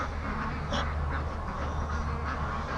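Ducks on a free-range farm quack near a pen, with several overlapping calls over steady low farmyard noise.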